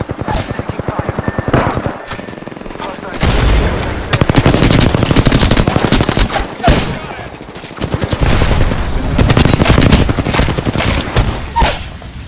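Sustained automatic gunfire in the battle royale game Apex Legends, loud and close, with long rattling bursts broken by short pauses and heavy impacts, in a gunfight.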